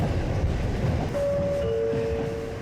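A Sangi Railway Sangi Line train rumbles steadily on the rails and slows into its terminus at Nishi-Fujiwara, with a high squeal of brakes coming in partway through. No voices.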